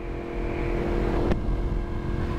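Motorcycle engine revving steadily during a ride, a continuous loud drone with road and wind noise, no talking.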